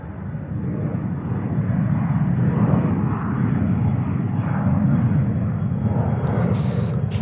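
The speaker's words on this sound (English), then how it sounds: "this is Brussels 330-300 coming in from Brussels" Brussels Airlines Airbus A330-300 airliner coming in to land, a steady, loud low engine roar that holds throughout with no talk over it.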